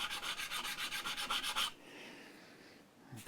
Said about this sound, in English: clean most of them up with the sanding polishing process